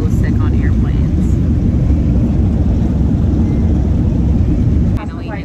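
Heard from inside the cabin of a passenger airliner taking off on a flight to Hawaii, a loud, steady engine roar fills the space, then drops noticeably in level just before the end.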